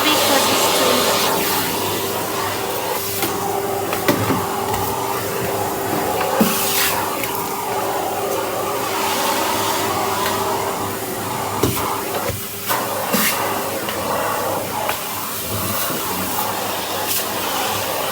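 A vacuum cleaner fitted with a brush tool runs steadily under train set tables, a loud continuous motor whine with occasional scraping and knocks as the brush moves across the floor.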